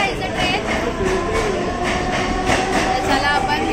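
A train at Ghatkopar railway station in Mumbai gives a steady, loud rumble and rattle throughout, with a faint murmur of voices underneath.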